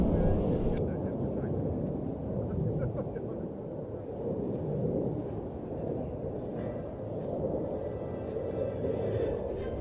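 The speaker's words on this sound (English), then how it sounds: "the F-15SA approaches for the double roll" An F-15SA fighter jet flies at the 2025 Saudi GA airshow, its broad, loud roar rumbling steadily throughout with voices mixed into the din.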